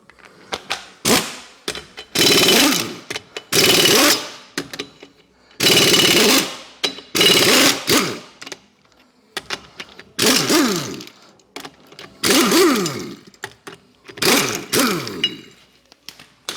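Pneumatic impact wrench hammering on a Peugeot 206 wheel in a garage, loud rattling bursts starting and stopping repeatedly, about nine short runs of a second or so each, close up with no talk.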